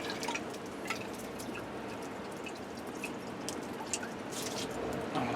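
Hot water splashes and drips while a container is rinsed out outdoors on a snowy back step, a steady close wash of watery trickling with scattered small splashes.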